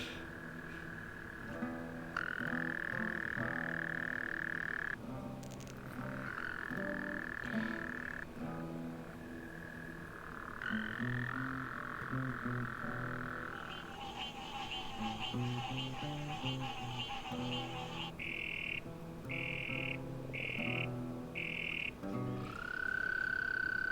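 Toads croaking in a video game, steady layered croaks and chirps running continuously for about twenty-four seconds at moderate volume, with shifting rhythmic patterns and no talking.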